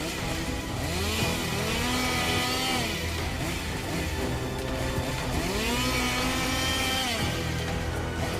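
A chainsaw cutting into a tree runs loudly and continuously, its engine rising and falling in pitch as it bogs down in the wood and revs back up, close and alone with no talk.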